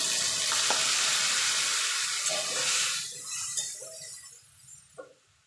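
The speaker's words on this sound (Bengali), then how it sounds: "আলু মূলোটা ভাজা হয়ে গেছে, এখানে যে মশলাটা গুলে রেখেছিলাম সেটা দিয়ে দেবো" Potato and radish chunks frying in oil as a spice paste is added, a loud sizzle that quickly dies down into quieter bubbling with a few utensil taps.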